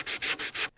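Buffing the edge of a handcrafted drum gives three steady rubbing strokes, close and moderately loud, each about a fifth of a second, then silence.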